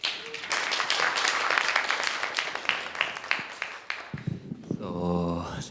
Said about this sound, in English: So please give him a warm round of applause.